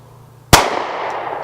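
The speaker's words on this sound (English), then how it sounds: "Just shot all my 40 rounds and I didn't hit the target" A single close, loud gunshot at target shooting, a sharp crack followed by a short echoing decay outdoors.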